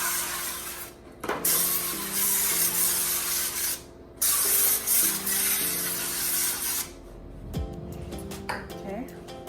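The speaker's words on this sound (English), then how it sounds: "and spray those down." Cooking spray is hissed onto baking pans for zucchini bread in a few loud bursts over about nine seconds, with clinks of the pans and music playing underneath.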